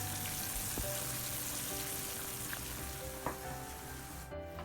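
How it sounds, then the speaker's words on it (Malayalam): Soaked rice drops into a pot of boiling water for Kerala fish biryani, giving a steady bubbling hiss with a few soft clinks. The sound is moderately quiet and continuous, with no voices. "റൈസ് നമ്മൾ തിളച്ച വെള്ളത്തിലേക്ക് ഇടുന്നു."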